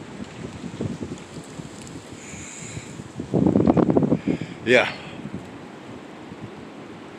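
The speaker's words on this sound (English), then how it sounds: "with 50 plus mile an hour wind gusts" Strong winter wind gusts above 50 mph at 27°F during snowfall buffet the microphone with a steady roar that surges into a louder gust midway, while a voice briefly speaks.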